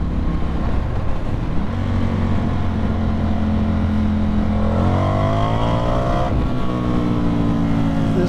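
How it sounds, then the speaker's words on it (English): Indian FTR 1200 motorcycle engine running loud and close, a steady rumbling idle that rises into revs around the middle, drops briefly, then climbs again with rising tone. "This bike sounds excellent."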